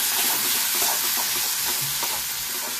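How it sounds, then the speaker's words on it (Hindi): Tomatoes frying in a pan, giving a steady, loud, dense sizzle with scattered soft clicks of stirring, all without any voices. "अभी टमाटर डाल के इसको अच्छे से भून देंगे।"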